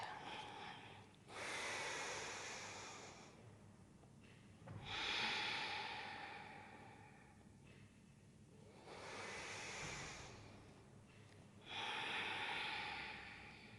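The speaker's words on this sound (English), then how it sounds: "Breathing up through the spine as you exhale." Slow, deep yoga breathing, with four long airy breaths spaced a few seconds apart, each swelling and fading, close and fairly quiet with no talk.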